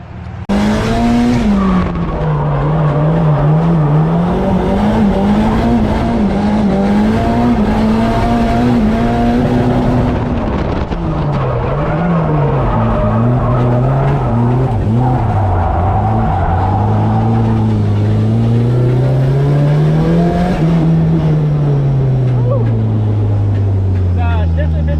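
A Nissan S13 with an SR20DET turbo engine skids on a bald tyre. The engine drones loudly and rises and falls throughout, with tyre squeal mixed into the close, continuous roar.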